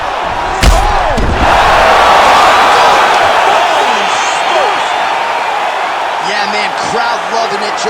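Video-game crowd in EA Sports UFC 5 roars after a fight-ending strike, a sharp slam-like impact followed by sustained loud cheering, with a commentator talking over it.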